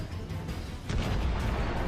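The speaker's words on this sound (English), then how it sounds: "Then we see a massive explosion." A massive explosion in wartime combat footage: a heavy, dense rumble of blast noise that swells and holds loud throughout the short stretch.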